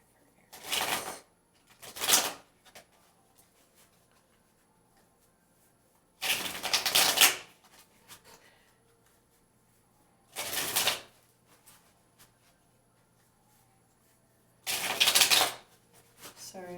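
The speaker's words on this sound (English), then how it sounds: "So apparently that deck needs shuffled again." Tarot cards riffle-shuffled in five brisk bursts separated by quiet pauses, each a crisp fluttering rattle up close.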